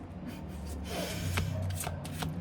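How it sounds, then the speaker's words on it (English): A deck of cards is shuffled by hand at close range, soft riffling and rustling with a few sharper flicks, quiet and with no one speaking. "I wanted to shuffle once more."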